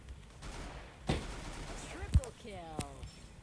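Gunfire in the Free Fire battle royale game comes as a few sharp, brief shots and bursts, partly mixed with a voice talking.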